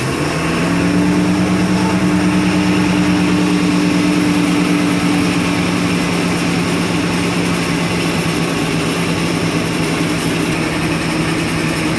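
A Dodge Sportsman RV engine with choke pushed in and throttle slightly open runs at a steady, loud drone with a low hum throughout, continuous and close.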